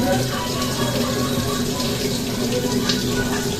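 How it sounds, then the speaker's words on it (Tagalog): Water pours steadily into an automatic washing machine set to a low water level during a drain-fault repair, a continuous broadband rush with faint voices murmuring underneath. "mapasok na yung tubig"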